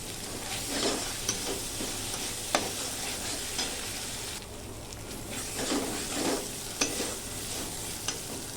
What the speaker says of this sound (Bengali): গুঁড়ো মশলাটা দিয়েও একটু নেড়ে চেড়ে কষিয়ে নেব মশলাটা।